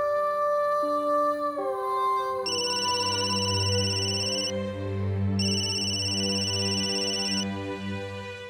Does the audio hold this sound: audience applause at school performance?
no